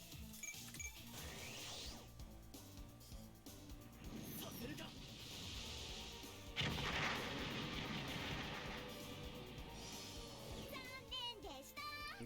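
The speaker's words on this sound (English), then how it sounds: "That's a missile attack." Missile barrages in the SD Gundam G Generation Crossrays game, a busy string of booming blasts and rushing swooshes over music, loudest in a burst midway, with voices speaking at points throughout.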